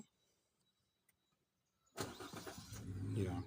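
A Maruti Suzuki Baleno automatic starts by push button: near silence, then the engine abruptly catches with a loud burst and settles into a steady, close idle.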